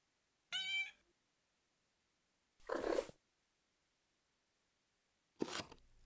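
A cat meows three separate times with long silent gaps between them, close and clear in an otherwise quiet room.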